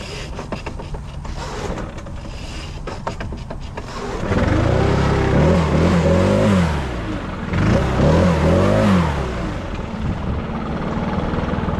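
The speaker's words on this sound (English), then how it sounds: "I've owned this blower for 3 years and never had an issue with starting this blower." A Stihl BR 800C leaf blower roars into life from a cold start, a steady close engine drone that swells twice as the throttle is opened and then settles back.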